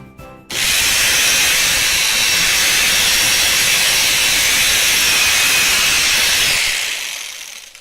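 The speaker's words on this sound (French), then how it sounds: "nous allons utiliser une scie sauteuse pour le départ" A jigsaw's loud, continuous buzzing cut starts abruptly after a brief pause and runs steadily for several seconds before tapering off.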